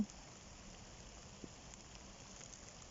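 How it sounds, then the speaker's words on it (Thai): Steady, faint rain falling outdoors while climbing a tree to harvest oyster mushrooms, a soft continuous hiss with no talk and one brief small tap partway through. "ได้บรรยากาศฝนตกด้ยค่ะ"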